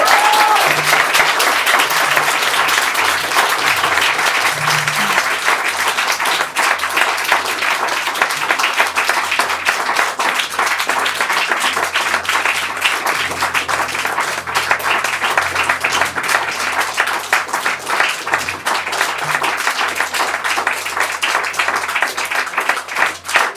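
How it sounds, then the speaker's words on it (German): Dense, sustained applause from an audience at the close of a panel discussion on corruption in Austria, a steady roar of many hands clapping without a break. "Ich glaube, Sie haben die beiden einen sehr, sehr großen Applaus noch verdient."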